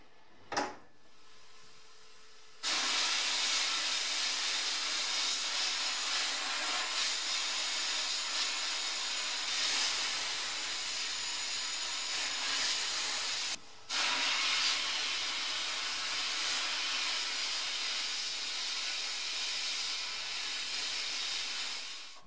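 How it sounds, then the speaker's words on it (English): A sandblaster blasts rust off BMW E30 gas tank brackets, a loud, continuous roaring hiss that starts abruptly after a brief click, runs for about twenty seconds, and cuts out once for a moment before resuming. "I popped them in the blaster to see how they would get on in there"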